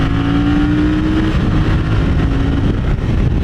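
A motorcycle accelerates hard past a car on a road, its engine loud and close throughout, with rising revs and a steady roaring drone.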